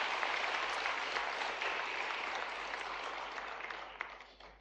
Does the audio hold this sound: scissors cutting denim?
no